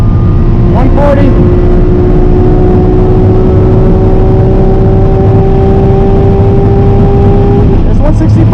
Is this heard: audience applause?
no